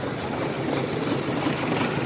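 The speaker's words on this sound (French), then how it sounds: "Là, je démarre la voiture. On voit que le moteur n'est pas du tout stable." Renault Mégane engine running roughly after starting, misfiring on three cylinders, a steady low rumble with an uneven, unstable idle held throughout at moderate level.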